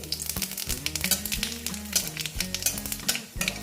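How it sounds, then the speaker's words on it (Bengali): Dried red chilies and five-spice seeds tempering in hot oil for water spinach, a close crackling sizzle with quick, busy stirring strokes over a few seconds. "এই দেখো কাঁচা শুকনো লঙ্কা দিয়ে দিলাম পুরনে তারপরে দিচ্ছি পাঁচ পুরন"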